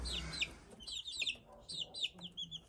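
Young chicks in a homemade brooder give a steady stream of high, thin chirps and peeps, repeated in quick overlapping bursts close by, with a low background rumble underneath.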